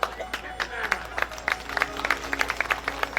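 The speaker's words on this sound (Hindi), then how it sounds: "अभी कहां ताली बजा रहे हो तुम?" An audience claps in uneven bursts of scattered hand claps at a live religious storytelling event, with a voice speaking over the applause.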